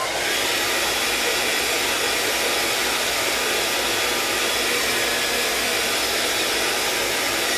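A hair dryer blows steadily on an art journal page, a loud, close, continuous rushing whir with no break throughout.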